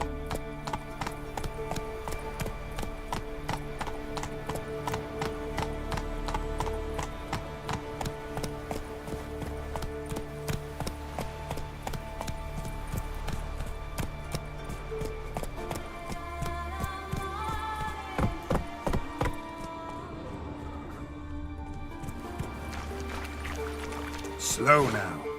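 Galloping horse in The Witcher 3: Wild Hunt, hooves clip-clopping steadily throughout under game music and ambient layers, with a brief louder burst near the end.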